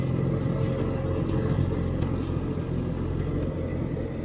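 A Farmall 350 tractor engine runs at a steady idle, a continuous low rumble close by with no talking.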